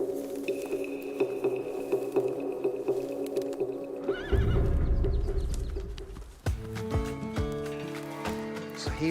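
A young horse neighs and whinnies over steady background noise, followed by a broad rushing burst of movement and a series of tonal calls, with no talking.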